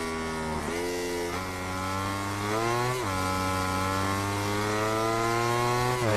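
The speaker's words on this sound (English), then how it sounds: "I just love the sound of the bikes when they're downshifting." MotoGP 20 racing motorcycles at the Italy Grand Prix, a steady loud engine whine with sharp pitch drops as the bikes downshift, then climbing again; no talk.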